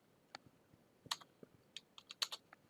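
Short bursts of keystrokes on a computer keyboard as a sudo command is entered on a Raspberry Pi running Linux, irregular clicks close by, quiet and alone.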